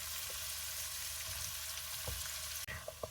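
Bottle gourd sizzling and frying in a hot pan, a steady broadband crackle with a few soft stirring knocks near the end.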